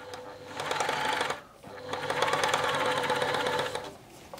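A Tony CM 500 sewing machine stitching a garment gives a fast, steady mechanical whirring in two close bursts, the first shorter, separated by a brief pause, with no talking.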